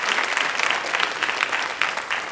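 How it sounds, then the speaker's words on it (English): A classroom audience at a school writers' week session gives a round of applause: close, steady clapping from a modest group, filling the short stretch on its own. "can we have another big round of applause for everyone?"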